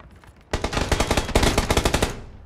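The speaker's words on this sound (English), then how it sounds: "They're just firing wild." Enemy automatic gunfire in PUBG: a sudden, sustained burst of rapid rifle shots, loud and fairly close, firing in a fast even rhythm for under two seconds before cutting off.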